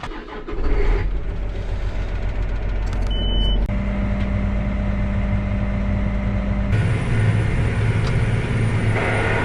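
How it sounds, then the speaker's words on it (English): A tractor pulling a soil finisher across a field runs as a steady, loud engine drone with shifting hums as it gets rolling, no talking heard. "hop in the soil finisher and start tearing this up"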